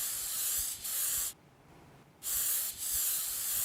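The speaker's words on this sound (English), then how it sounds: "We're going to spray it first with a non-stick spray." Two close aerosol sprays, each a sharp steady hiss broken by a tiny stutter, with a short quiet gap between them; no speech.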